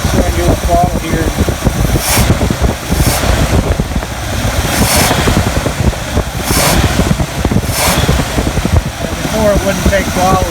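Rebuilt engine of a very clean 1964 Chevrolet Impala running smoothly and revving with throttle blips, a loud, steady close rumble with periodic surges, and someone talking over it.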